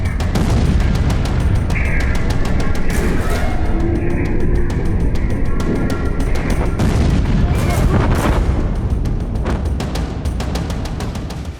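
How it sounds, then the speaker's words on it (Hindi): Camera footage of the Beirut explosion, a loud rumbling roar with sharp cracking bursts and repeated booming impacts, continuous and heavy throughout before tapering slightly at the end. "धमाका कितने कैमरों में कैप्चर हुआ, पहले वो देखिए"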